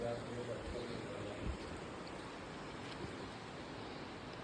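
Steady rushing of a river in the Wayanad landslide disaster area, a continuous watery hiss in the background while someone talks over it.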